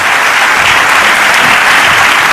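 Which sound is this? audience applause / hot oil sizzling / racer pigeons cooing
audience applause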